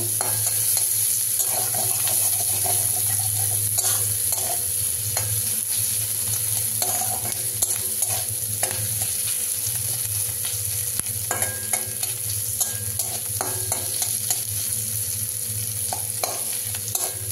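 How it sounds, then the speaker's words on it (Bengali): Onions browning in a pan for a home-style mushroom dish, with a steady sizzle and the scrape and clatter of stirring throughout, set against a constant low hum. "পেঁয়াজটা একটু ব্রাউন করে একটু ভেজে নেব।"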